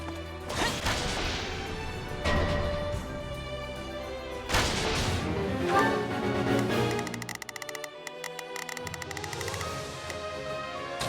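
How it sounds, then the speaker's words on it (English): Ballistae fire in Fire Emblem Warriors Three Hopes as a few heavy, booming crashes, spaced a couple of seconds apart, ring loudly over a dense battle soundscape. "Your Excellency, the ballistae are ready to fire."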